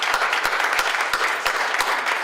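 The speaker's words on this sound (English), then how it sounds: "let's also give a round of applause for Jacob Morris too." Conference attendees at a session on women and the abolitionist movement clap for Jacob Morris, a steady patter of applause punctuated by several sharp, evenly spaced louder claps close by.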